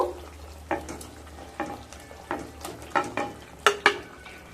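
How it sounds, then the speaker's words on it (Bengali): Fried pointed gourd being stirred into sizzling spices in a pan, a steady frying hiss broken by repeated scraping stirs that come in uneven strokes and grow louder toward the end. "পটল দিয়ে খুব ভালোভাবে মিশিয়ে নেব"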